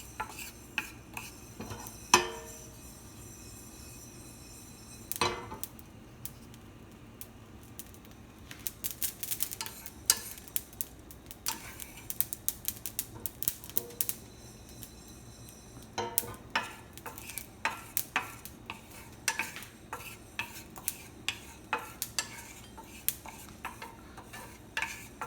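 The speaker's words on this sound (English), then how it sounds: "Next, I'm going to add these mustard seeds. And just wait for them to splutter." Mustard seeds roast in a pan and splutter as scattered sharp pops and crackles, sparse at first and then in denser bursts over a faint, quiet background.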